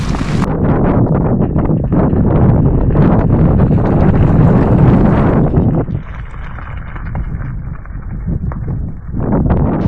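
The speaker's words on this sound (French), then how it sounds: "Deuxième jour avec un vent de face assez fort, face ou latéral." Strong headwind roars across open Saharan sand plains in Mauritania, a loud continuous buffeting rush battering the microphone, easing slightly partway through, with no voices.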